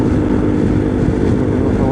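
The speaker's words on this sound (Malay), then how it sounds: "Tak tahu dengar bunyi enjin ke tak, bunyi exhaust ke dengar ke tak" A motorcycle engine and exhaust drone steadily and loudly while riding on a ride out to break the fast, with wind rush over the microphone and no clear pauses.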